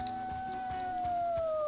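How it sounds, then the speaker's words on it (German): Wolves howl in a fantasy video game, a long sliding tone that drifts slowly downward over a busy backdrop of game music and rhythmic low thumps, fairly loud and steady throughout. "Ich höre auf jeden Fall Wölfe, die mich jetzt angreifen."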